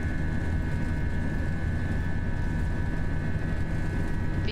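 Steady roar of FSLabs A320 jet engines at takeoff thrust in a flight simulator, a constant loud broadband rumble with a high tonal whine, no talk heard.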